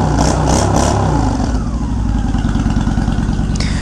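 A Honda Shadow ACE motorcycle fitted with drag pipes, its engine revving loudly close by, then settling into a deep, rapid, throbbing lope; no one speaks.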